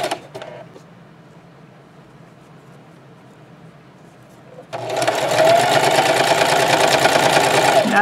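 A sewing machine runs steadily as it stitches along the edge of a two-color scrub cap, starting abruptly midway after a quiet stretch and continuing close and loud to the end.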